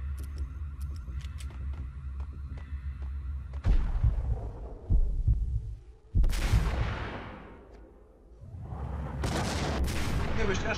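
Explosions and gunfire in the video game Max Payne, heavy booming blasts in several bursts over a dense rumbling battle din, with a few quieter gaps.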